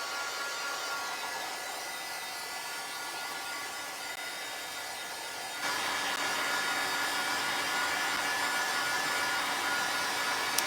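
A hair dryer blows on a craft piece in a steady, close whir that gets noticeably louder about halfway through as the airflow shifts, with no voices over it.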